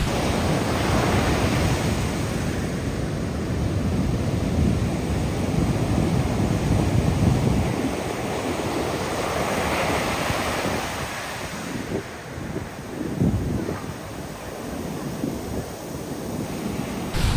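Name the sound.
large ocean waves from a hurricane, windy beach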